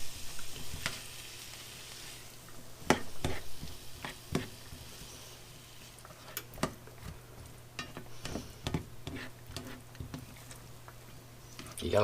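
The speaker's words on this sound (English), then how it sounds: "I'm just going to saute these a bit, make sure the onion, basically the onion gets done" Onions sizzle and crackle steadily in a hot non-stick pan, with occasional scrapes and taps of a utensil stirring, close up and moderately loud.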